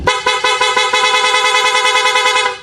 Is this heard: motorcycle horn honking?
yes